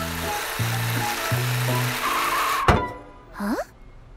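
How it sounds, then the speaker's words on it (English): A cartoon bus drives nearby, heard as a steady engine-like rumble with stepped tonal sounds, then a sharp thump and a short rising whoosh near the end. "I can hear the bus, but I can't see it, Morphle."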